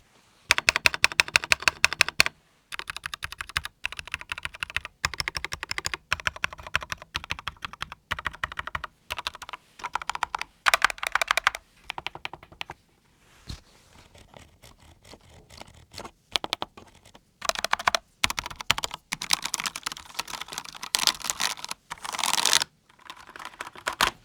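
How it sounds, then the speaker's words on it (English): Typing on a Glorious GMMK 3 modular mechanical keyboard: fast, dense clacking keystrokes up close, broken by short pauses, with some lighter and some heavier bursts, and no voices. "Sound test."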